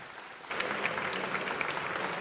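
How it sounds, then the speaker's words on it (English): Applause for a competitor at the 2017 World Brewers Cup coffee competition. A room of clapping bursts in after a brief quieter lead-in and holds steady and full to the end. "A big round of applause for Chad."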